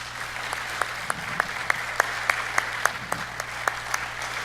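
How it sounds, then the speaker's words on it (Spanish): Steady applause from a church congregation with sharper individual claps standing out at a regular beat, a continuous wash of clapping under a low hum, no voices on top. "Dale un aplauso al Señor por eso."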